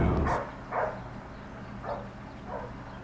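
Dog barking indoors at a breakfast nook, about four short separate barks spaced out over a low steady background hum, moderately close.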